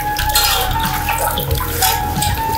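Carrots being washed in water, with steady splashing and sloshing close by that carries on without a break and no talking over it.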